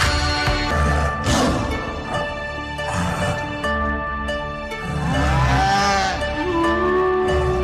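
Cattle mooing at a school annual day performance, several long drawn-out moos rising and falling over a steady music-like background, loud and close.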